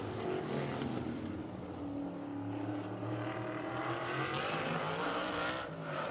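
Number 64 race car at Anderson Speedway opening the throttle during Little 500 qualifying. A loud, continuous engine roar holds steady and close throughout, with no talk over it.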